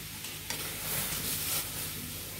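Sour olive curry made with taro poured into a hot pan of tempered mustard seeds and dry chillies, bursting into a loud, broad sizzle that swells and holds steady, close up and with no voices.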